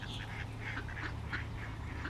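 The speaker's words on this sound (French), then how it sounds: "avec plein de canards." Ducks quacking beside a river in New Zealand, a flock giving repeated short nasal quacks in a loose, overlapping rhythm, fairly close, with a steady low hum underneath and no talking.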